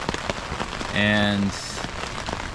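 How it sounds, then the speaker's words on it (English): Heavy rain pours steadily at a campsite, a dense hiss under a brief spoken word and a short tonal sound in the middle. "this is the thickest of the rain, so I'm gonna wait it out a little bit"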